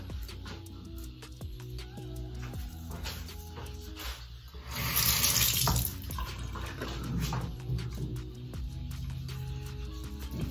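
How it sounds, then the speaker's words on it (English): Water running from a tap to rinse off a skincare product, a continuous close splashing flow that grows louder and fuller midway, heard alone with no talk. "I just rinsed the product off"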